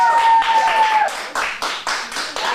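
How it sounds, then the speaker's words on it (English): Clapping in an acting-class studio, a short burst of hand claps over a fading tone, then several separate loud claps at a steady rhythm, close by. "Let's get a round of applause."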